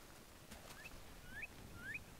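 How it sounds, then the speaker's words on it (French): Bird calls in the Minecraft Millenaire mod: a few short rising chirps repeating about every half second over a low steady game background, fairly faint and with no talking. "Alors, j'entends des oiseaux."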